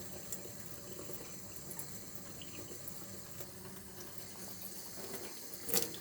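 Tap water runs steadily at moderate volume, rinsing a bird's broken leg, with a faint splash and a brief louder clatter near the end.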